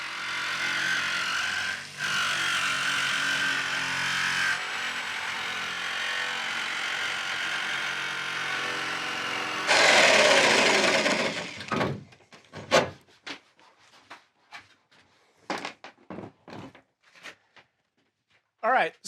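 A body panel saw cuts through a car door around the window opening, making a continuous, close, buzzing mechanical whine that cuts off partway, followed by bursts of talk.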